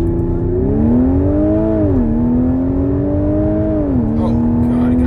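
A supercharged V6 Audi S5 Coupe launches hard from a standstill in dynamic mode with traction control off. The engine note climbs steadily and drops sharply at two gear shifts, heard loud and close from inside the cabin.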